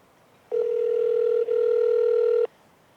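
A telephone call tone in the video game Rock Rich: one steady, clear electronic tone held for about two seconds with a tiny break midway. It plays alone over a quiet background.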